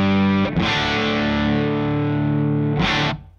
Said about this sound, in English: Let's check out the excursion switch.